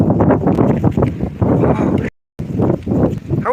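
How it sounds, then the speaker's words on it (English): Heavy wind buffets an outdoor microphone in a steady low roar with gusting swells, cut by a brief dropout partway through, with faint traces of a voice underneath. "The wind's really in my face right now."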